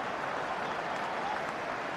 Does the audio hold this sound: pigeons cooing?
no